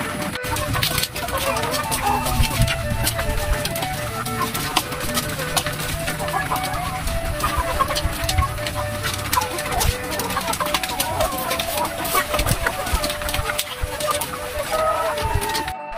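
RTL laying hens clucking on a backyard egg farm, a busy mix of overlapping clucks and cackles from a flock nearby, with steady farm background noise throughout.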